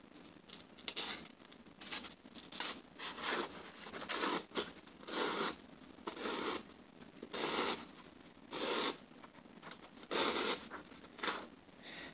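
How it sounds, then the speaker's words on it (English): A sharpened ice fishing auger blade slices through a sheet of paper, giving repeated dry scraping and tearing rasps in short bursts, close and fairly quiet, with brief pauses between strokes. "I take a piece of paper and I start trying to cut it."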